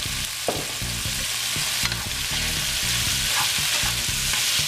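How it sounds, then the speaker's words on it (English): Soy sauce hitting pancit noodles in a hot pan gives a steady, close sizzle, with a few soft clanks of a utensil. No one speaks. "I'm gonna go ahead and throw in a little bit of soy sauce."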